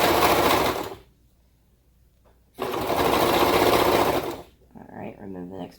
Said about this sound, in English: when you serge this, it's all going to be caught in the same seam